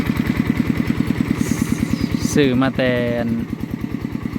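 Single-cylinder walking tractor owned about twenty years chugs steadily at idle close by in a hot rice field, its rapid even thumping running under a man's brief speech.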